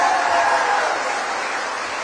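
Audience applause at a public ceremony, a dense burst of clapping that stays steady and slowly eases over two seconds.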